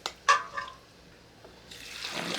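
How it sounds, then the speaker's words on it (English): Water runs into a canning jar packed with green beans: a couple of sharp splashes at first, a brief lull, then a steady rushing pour building near the end. "Now we're going to go ahead and fill this up with water."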